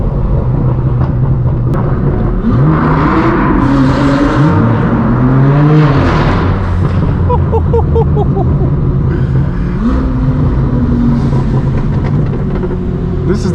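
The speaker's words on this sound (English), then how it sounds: "This is that McLaren that was making all that ruckus, all that noise." McLaren supercar engine and exhaust accelerating hard on an open road, loud rising revs sweeping up through several gear pulls over a constant deep rumble.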